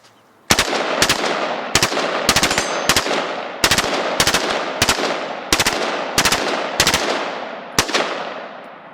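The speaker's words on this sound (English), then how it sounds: "you can still shoot it with the stock folded, which I'm going to show you as well" Bursts of HK G36 rifle fire with the stock folded, a dozen loud, close sharp shots in a steady rhythm over about eight seconds, no talking.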